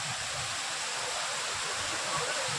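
Rushing water of the Ozar waterfall at Bhiravande near Kankavli, a steady broadband roar with no breaks, heard from a moderate distance.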